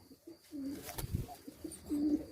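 Tumbler pigeons coo softly nearby in short, throaty bursts, with a flutter of movement in the middle, at evening feeding.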